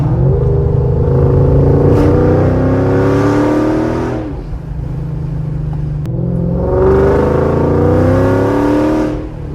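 A car fitted with stainless steel performance headers of larger-than-stock diameter revs hard twice, each loud rising exhaust note climbing then falling back to a deep idle rumble.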